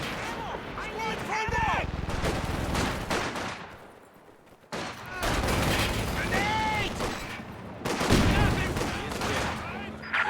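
Gunfire in a war strategy video game: rapid fusillades and machine-gun bursts with booming impacts, interrupted by a brief lull, while voices talk over the action.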